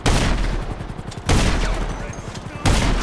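Heavy gunfire in GTA Online, three loud sustained bursts of rapid automatic fire, each lasting over a second, close and dense.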